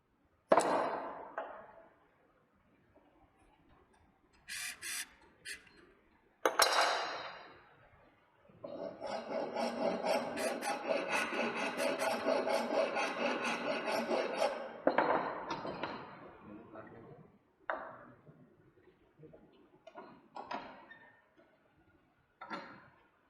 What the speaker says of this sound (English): Now the next member we will be leveling the next member properly with the help of rasp files.